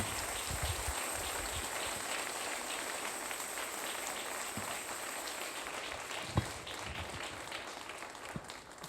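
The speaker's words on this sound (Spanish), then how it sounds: "¿Les podemos dar otro aplauso?" An audience claps together in a dense, continuous patter of many hands at moderate loudness, holding steady throughout with no talking over it.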